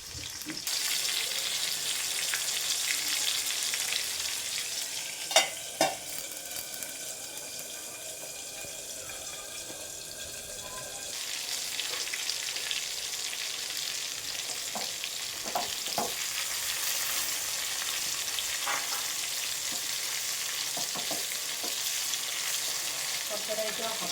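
Chicken liver fries in a pan with a steady, fairly quiet sizzle throughout. It is scorched a little and is stirred now and then, with occasional scrapes and clinks over the constant crackle.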